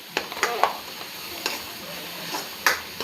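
Onion, tomato and masala fry for pav bhaji while a spoon stirs them, sending sharp scraping clacks at irregular moments over a soft, continuous sizzle.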